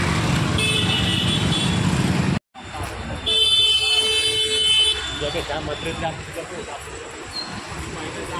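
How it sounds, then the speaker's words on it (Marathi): Busy street traffic at a crowded road junction, with car horns honking in short sustained bursts over a steady roar of engines, while a voice talks nearby. "किती ट्रॅफिक आहे बघा इथे"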